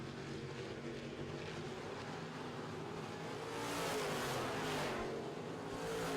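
Modified race cars racing side by side on an oval track: a continuous engine roar swells as the pack rushes past and then holds at a loud, distant drone.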